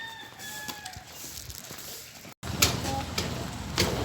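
A rooster crows while hens cluck around it, then a brief cut gives way to louder clucking and more crowing close by.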